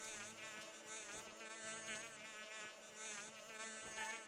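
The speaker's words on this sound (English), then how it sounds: "Here I am messing around with the fucking bees." Bees buzzing in the video game Skyward Sword HD, a steady insect drone that stays close and loud throughout without pause.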